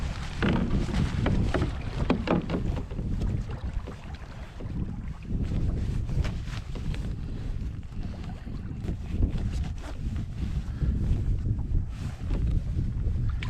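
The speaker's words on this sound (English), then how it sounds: "It's gonna be one of those cold, windy, paddle into the wind days." Canoe paddling into a cold headwind outdoors, with steady rushing wind and microphone buffeting throughout and faint water sounds from the paddle strokes beneath it.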